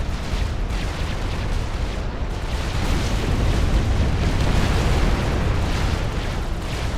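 Dense, sustained rumble of massed torpedo explosions in the strategy game Supreme Commander, a continuous loud roar of overlapping blasts with no distinct single hits.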